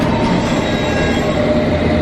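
A London Underground District Line train runs at speed with a loud, steady roar and rumble of wheels on track, constant throughout with no voices.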